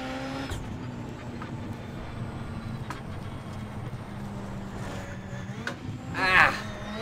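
A Ford Fiesta RS WRC in a rallycross video game drones steadily at high revs, with its engine pitch dropping on a downshift midway and a brief louder burst near the end.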